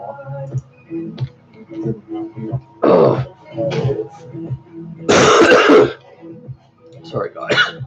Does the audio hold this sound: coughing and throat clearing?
yes